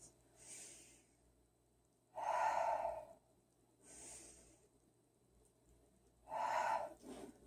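Slow, deep yoga breaths taken while holding a warrior-style pose: four long breath sounds alternating between inhale and exhale, close and fairly quiet, with two of them louder and breathier.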